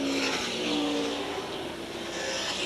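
A race car engine roars loud and close at Williams Grove Speedway in 1988, a sustained full-throttle howl with shifting pitch across the whole stretch, mostly alone with no clear talk.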